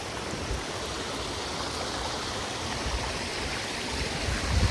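A stream of fresh drinking water flows over seaside rocks, a steady broadband rush that stays even and close throughout with no voices.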